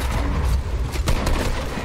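Fortnite gunfire in a squad fight, a quick burst of loud, close shots crackling over game noise for a couple of seconds.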